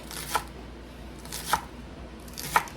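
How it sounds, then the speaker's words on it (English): Three evenly spaced knife chops through food on a cutting board, each a crisp, close thunk about a second apart, with nothing else heard. "Just give these a rough chop."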